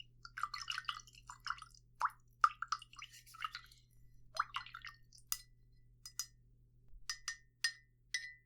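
Paintbrush swished in a cup of water, close and quiet: soft irregular drips, plops and sloshes, then a series of crisp light clinks against the cup near the end.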